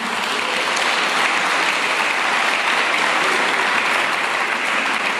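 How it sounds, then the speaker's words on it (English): A large conference audience applauds the organizers in a dense, steady roar of clapping that holds at full strength throughout, with no voices above it. "I want to ask you if we can do a big round of applause for all the organizers that are making this conference possible."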